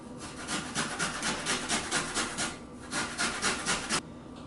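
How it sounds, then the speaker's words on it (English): Fresh ginger root is shredded on a fine grater in rapid, rhythmic rasping strokes, a close, steady scraping with a short pause partway through and no talking. "So I'm going to shred it on a fine grate here."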